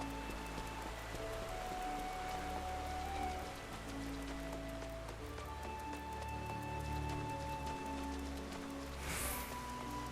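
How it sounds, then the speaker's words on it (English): Steady rainfall from the game Final Fantasy XIV, an even patter of drops on surfaces that continues without a break under faint background music tones and a brief whoosh near the end. "I do love the rain, though."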